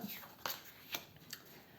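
A tarot card being drawn from the deck during a reading, giving a few soft, brief papery swishes and flicks close by, with quiet gaps between them.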